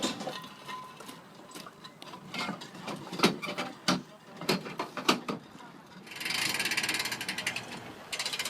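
A ratchet strap is cranked to tie down a rail speeder, with a series of sharp clicking ratchet strokes, then a fast buzzing rattle near the end, close and clear.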